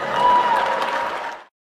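An audience bursts into applause after Billie Eilish's speech, dense clapping with light cheering that holds steady and then cuts off abruptly, with no talking over it.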